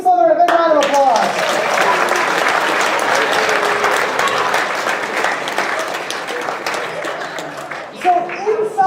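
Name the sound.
audience applause for Team Slytherin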